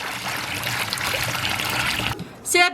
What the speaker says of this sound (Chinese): 锅里倒水